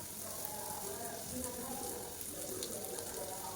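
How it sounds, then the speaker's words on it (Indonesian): Shredded tongkol tuna frying in a pan until half-cooked in a home kitchen, giving a steady, close hiss and crackle of oil that runs evenly throughout, with no voices over it. "Jadi sambil masak sayuran, aku mau goreng tongkol suwirnya."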